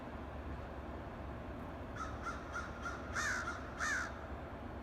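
Crows being fed caw several times from a moderate distance, first a run of short, faint calls and then two louder, drawn-out caws over a steady low background rumble.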